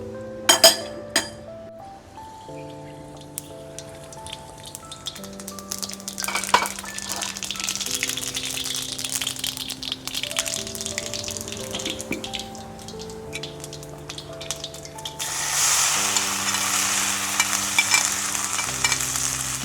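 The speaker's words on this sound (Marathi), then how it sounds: "गरम झाल्यानंतर जिरे मोहरी टाकायची" Cumin and mustard seeds crackle and sizzle in hot oil in a pan over a village wood-fired stove. Clinks and stirring sounds come and go over roughly twenty seconds, with a brighter burst of hissing near the end.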